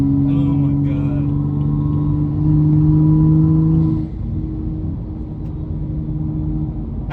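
A 2015 BMW 335i with full bolt-on modifications drones loudly under acceleration while racing, its engine note holding then rising before dropping off as the throttle lifts, heard from inside with voices talking.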